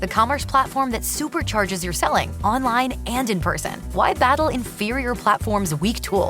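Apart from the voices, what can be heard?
No everyday noises stand out.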